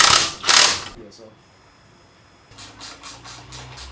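Ratchet clicks while tightening intake mounting bolts on a Civic Type R, two short bursts of rapid clicking, a quiet pause, then softer repeated ratcheting near the end.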